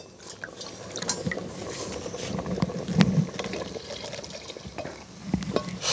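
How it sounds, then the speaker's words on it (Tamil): Dissolved millet flour batter is poured into porridge cooking in a pot, giving soft, irregular liquid splashes and gurgles with light clinks, close and fairly quiet throughout. "மாவாய் அதை கரைச்சி அதுக்குள்ளே விடணும் கரைச்சி எடுத்துட்டோம் இப்போ விட போகிறோம் நாங்கள்"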